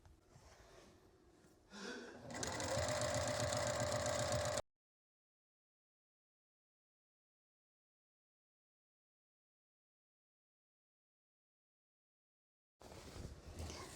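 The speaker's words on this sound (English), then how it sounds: "I'll take this to the sewing machine and sew 1/4 inch seam" A sewing machine sewing a quarter-inch seam on a quilt runs steadily for a couple of seconds with a loud mechanical hum, then cuts to silence.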